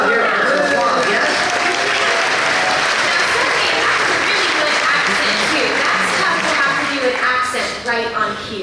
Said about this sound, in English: Let's bring them out here for some applause